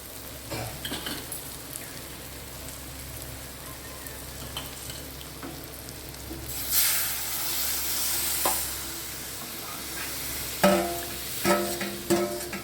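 Pre-boiled lentils are stirred into spices frying in a pan, giving a low continuous sizzle that flares into a louder burst of hissing as they go in, then several clattering stirs and scrapes against the pan.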